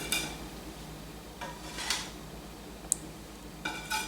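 Metal spatula scrapes and clinks against a baking pan as snickerdoodle cookies are lifted out, a few separate scraping strokes and one sharp tick, close and fairly quiet.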